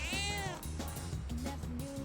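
A cat in the video game Persona 3 Reload gives a clear, drawn-out meow over steady game background music.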